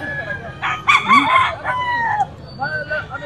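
A Boston roundhead sweater rooster crows loudly and close by, one drawn-out call with wavering, raspy tones, followed by softer clucks, amid faint background noise at a poultry sale.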